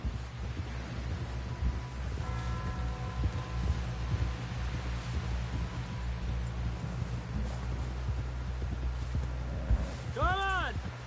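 Horse hooves galloping in Red Dead Redemption, rapid clattering beats under a low rumble and wind, with a voice talking over them near the end.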